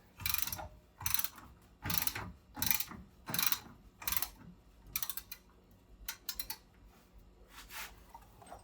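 A ratchet wrench with a 5/8 socket tightens a bolt on ball joint eliminators, a series of evenly spaced clicking bursts, close and fairly quiet, shifting to quicker, lighter clicks toward the end.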